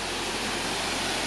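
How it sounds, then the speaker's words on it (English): A waterfall at a busy swimming spot in Asia gives off a constant, dense roar of rushing water. The sound is loud and even and has no pauses. "This is waterfall number 2."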